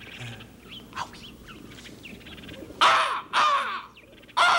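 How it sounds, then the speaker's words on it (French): Crows cawing in a 1979 children's television episode about birds: several loud, harsh caws in separate bursts, with fainter calls between them. "Comment est-ce que ça crie déjà une corneille?"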